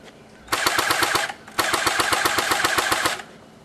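A T3 .30 cal airsoft gun firing in two rapid full-auto bursts, close and loud, each a dense stream of sharp evenly spaced shots. The first burst lasts under a second and the second about one and a half seconds, separated by a short pause.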